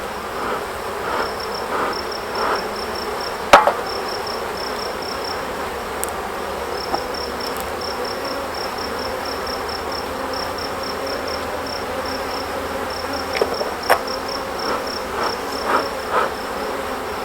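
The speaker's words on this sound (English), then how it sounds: "And because these bees are always so angry" Honey bees hum at an opened hive during a garden beekeeping check, a dense steady drone with individual buzzes passing close, under a high pulsing chirp and occasional sharp clicks.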